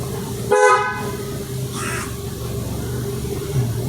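A car horn gives one short, loud honk, followed by a fainter second toot over the steady hum of a running vehicle.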